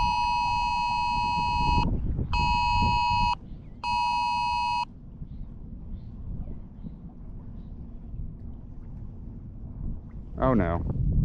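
A phone sounds a tornado warning alert as three loud, steady electronic beep bursts over wind and outdoor rumble, followed by a brief rising chirp near the end.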